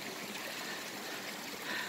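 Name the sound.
waterfall flowing at Wadi Qurai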